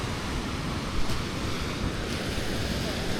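Sea waves wash continuously onto a beach shore, a dense roaring surf mixed with wind buffeting the microphone, loud and steady with no clear breaks.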